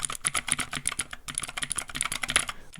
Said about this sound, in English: Beautiful sounding keyboard.